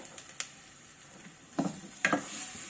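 Carbonara sauce stir-fried in a pan, a soft continuous sizzle broken by a few scraping, clattering strokes of a utensil against the pan, close and moderately quiet, with no talk.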